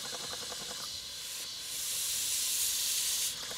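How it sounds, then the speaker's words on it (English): A Stuart 5A model steam engine running on steam from a Castle Steam V6 boiler, giving a steady loud hiss that swells midway, with faint rapid ticking early on. "As you can see and hear, the engine is running very smoothly."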